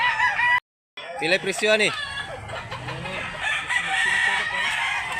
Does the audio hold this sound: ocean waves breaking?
no